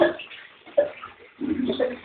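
Water runs from a tap, producing an uneven, close, muffled splashing with a brief surge and a louder gush toward the end.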